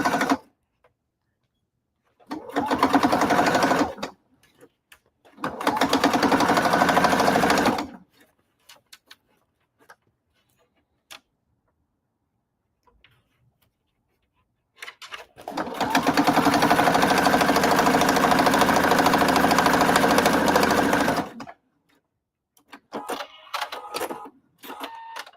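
A sewing machine stitches a seam on a denim corset in several bursts: three long runs of whirring with quiet gaps between them, then a few short stops and starts near the end. Nobody speaks.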